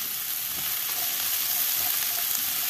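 Bell peppers sauté in a pan for a chicken liver sandwich, giving a steady, close sizzle with light crackle that runs unbroken throughout, no voices.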